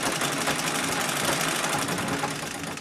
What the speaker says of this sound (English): The machine spins beautifully.